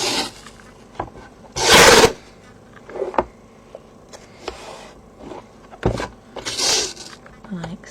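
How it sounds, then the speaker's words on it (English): Creases on a craft paper box are burnished by hand in a string of close, short rubbing and scraping strokes, with two louder bursts and quieter scuffs between them. "I will go around and just burnish out all those creases"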